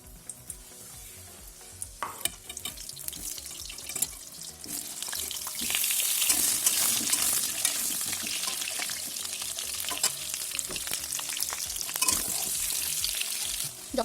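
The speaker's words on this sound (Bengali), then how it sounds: "তখন আমি আলু ভেজে নেব।" Potato pieces fry in very hot oil in a wok, giving a soft, steady sizzle that swells into a louder, continuous hiss about halfway through, close by, with no one speaking.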